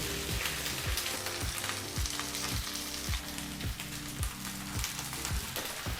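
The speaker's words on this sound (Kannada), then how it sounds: "ಮೂರರಿಂದ ನಾಲ್ಕು ನಿಮಿಷ ಲೋ ಅಥವಾ ಮೀಡಿಯಂ ಫ್ಲೇಮ್ನಲ್ಲೇ ಎಲ್ಲ ಪದಾರ್ಥನೂ ಚೆನ್ನಾಗಿ ಬೆರೆಸಿ ಫ್ರೈ ಮಾಡ್ಕೋಬೇಕಾಗತ್ತೆ" Okra and ground masala paste fry in a pan over low to medium flame, giving a loud, constant sizzle with regular rhythmic scrapes as the mixture is stirred.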